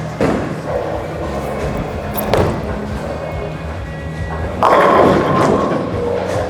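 A Colombia 300 Pulse bowling ball strikes pins in a bowling alley, with heavy thuds and a clattering crash near the end over a constant lane-side din.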